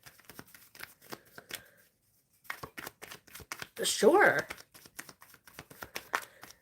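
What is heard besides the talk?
shuffling tarot cards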